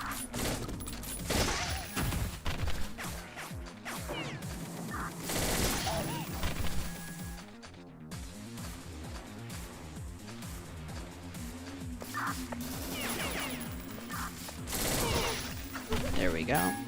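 Rapid bursts of gunfire from a small gun in a video game crackle loudly throughout, with dense fusillades of shots, a brief lull near the middle, then more sustained firing over a background of game sounds.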